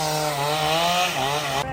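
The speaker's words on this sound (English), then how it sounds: "He got the chainsaw right there tied up." A chainsaw roars steadily and close while cutting a tree, its buzzing engine tone holding for nearly two seconds before cutting off abruptly.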